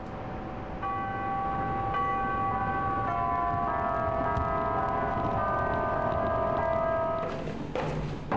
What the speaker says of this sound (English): chimes on tops of Sacramento's Memorial Auditorium rang throughout the day